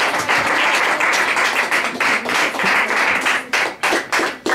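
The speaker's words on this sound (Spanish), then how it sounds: "Por eso, doy un aplauso a Cristo," A church congregation claps, starting as a dense wash of applause and thinning toward the end into distinct, rhythmic individual claps, loud and close.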